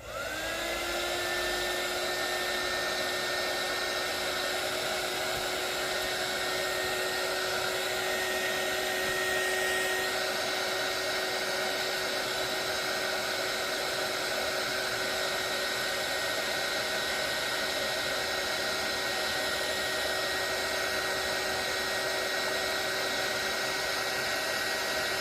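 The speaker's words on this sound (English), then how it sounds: "I'm going in with my heat gun." A heat gun blows hot air steadily onto textile scraps in a sewing and texture project, a loud continuous whine with a high motor tone that runs unbroken for the whole stretch.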